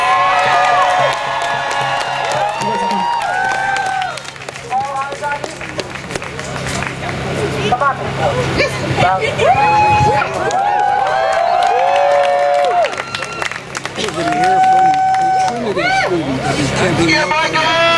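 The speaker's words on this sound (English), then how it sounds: "A round of applause for the group of students who have been camping out for how many days now?" A crowd at an outdoor student rally in Connecticut claps and cheers for students camping out in protest, a loud continuous roar of applause and shouts with voices talking and calling over it throughout.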